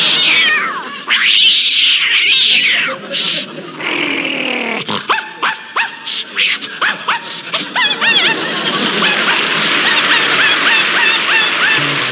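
In a 1972 comedy sketch a cat and a dog meet on a street. Loud, drawn-out meows and caterwauling trade with yapping and growls, then run into a dense, overlapping noisy scuffle near the end.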